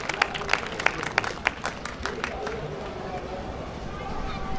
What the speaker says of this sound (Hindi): पुरजोर तालियों से इस्तकबाल करें मोहतरमा राना तबस्सुम साहिबा का